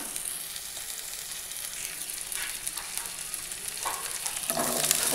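Garlic cloves sizzling in hot oil in a pan while cooking bottle gourd leaves, a steady close crackling hiss with occasional stirring scrapes, no talking.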